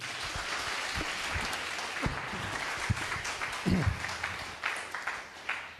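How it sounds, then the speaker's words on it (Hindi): Audience applause in a crowd at a Hindi-language Christian sermon or worship gathering, a dense steady wash of many hands clapping together, fairly loud and sustained throughout with scattered sharper claps rising out of it. "अगर जितने तैयार हैं एक बार जोर से ताली बजा दीजिए"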